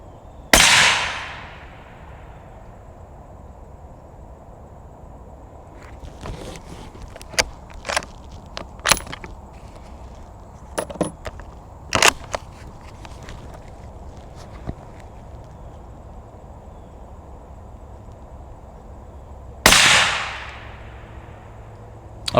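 Suppressed Thompson Center Compass II rifle in 6.5 Creedmoor fires two sharp, loud shots about nineteen seconds apart, each decaying quickly, with scattered handling clicks and faint knocks in between.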